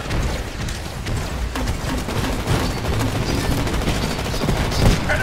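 Gunfire in the Titanfall video game: dense, continuous bursts of automatic weapon fire with scattered heavier booms, loud and sustained throughout, with a faint voice briefly in the mix.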